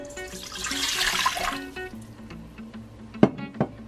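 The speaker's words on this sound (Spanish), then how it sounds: "Entonces le vamos a poner el agua, solo son 2 tazas de agua." Two cups of water poured into an Instant Pot for candied squash, a gurgling splash that swells then fades, followed by a couple of sharp knocks.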